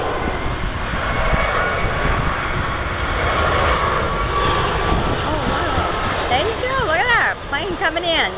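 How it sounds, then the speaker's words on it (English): An airplane comes in to land at Bangor airport, its engine roaring loud and close as a broad, steady rumble, with a few brief wavering tones toward the end. "Plane coming in."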